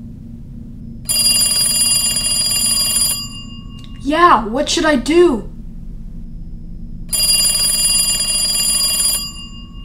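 An old telephone rings in two long bursts of steady, bright electric bell tone, clear and fairly close, separated by a short spoken question from a person.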